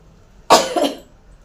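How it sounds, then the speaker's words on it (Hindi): A single harsh cough bursts out close by, lasting about half a second, with quiet before and after. "मेरे को भी खांसी हो रही है"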